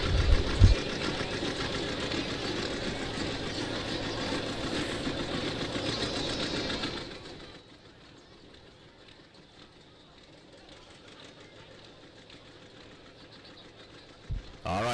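An antique John Deere 830 tractor works at a tractor pull, its engine chugging loud and steady for about seven seconds. The sound then cuts to a much quieter background, with a short knock near the end.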